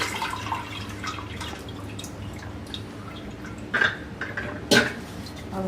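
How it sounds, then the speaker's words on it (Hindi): Water draining from soaked soybean dal in a strainer, soft dripping and trickling with a couple of sharper metallic clinks over quiet kitchen background. "अब हम इसको छलनी में डाल देंगे।"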